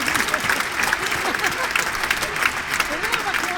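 A studio audience at a French web TV show breaks into dense, continuous applause, with lively cheering voices mixed into the clapping throughout.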